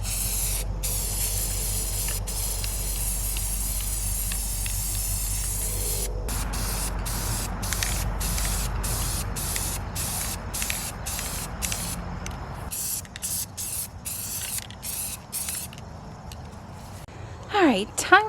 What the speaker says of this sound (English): I'm going to start with my white spray paint.